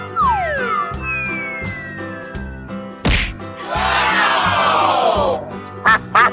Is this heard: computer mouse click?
no